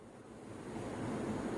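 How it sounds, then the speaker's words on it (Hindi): Water poured into a 500 ml plastic bottle, a steady close rushing gurgle that builds slightly in level over a short stretch with no voices. "अब यहां तक मैंने ये पानी डाला।"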